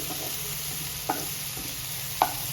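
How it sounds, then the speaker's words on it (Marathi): Garlic fries in hot oil as a continuous close sizzle, with a couple of brief clinks from a spoon stirring the pan, while a raw-mango kadhi is cooked. "आणि हा लसूण छान होऊ देऊया तेलामध्ये."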